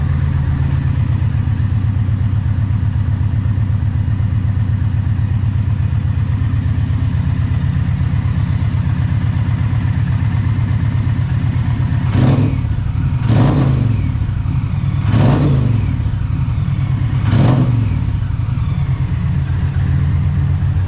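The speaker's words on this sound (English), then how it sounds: "she's got a little bit more rumble to it. Deep throaty, I like that." An Indian Challenger motorcycle fitted with a Freedom Performance exhaust idles with a deep, loud, close rumble, then revs in four sharp throttle blips near the end, with no talk.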